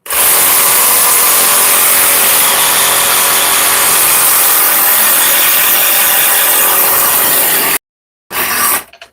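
A Sawzall reciprocating saw cuts through a block of frozen meat, a loud, close, continuous buzzing rasp that stops abruptly near the end, then briefly starts up again.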